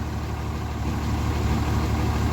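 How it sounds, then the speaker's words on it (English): A Cummins diesel truck engine idles steadily up close, a loud, even low rumble with a constant rattling clatter and no voices, after loose injector tubes were tightened. "She's idling noticeably, very, very, very noticeably better."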